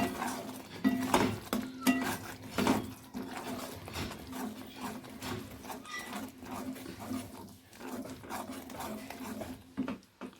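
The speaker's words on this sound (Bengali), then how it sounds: "ভালো করে নেড়ে নেব" A spoon stirs a curry base of salt, turmeric and gram flour in a metal pot, with soft scraping and light clinks in a busy, uneven rhythm that continues throughout.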